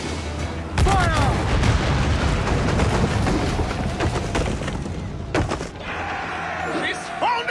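Pirate ship cannon volleys in a video game: a loud booming blast followed by sustained rumbling combat and a second sharp blast, with voices shouting amid the clamor.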